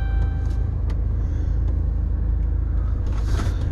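Wheelchair van being driven, a steady low engine and road rumble inside the cabin with faint rattles, continuous and fairly loud throughout.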